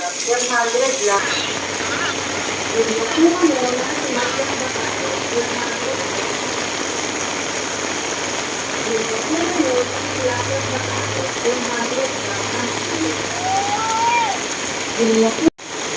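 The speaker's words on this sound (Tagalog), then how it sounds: "Ngayon, buhos talaga." Heavy monsoon rain pouring steadily in the early morning, a dense hiss with mechanical clicking and a muffled voice underneath, ending in a sharp knock.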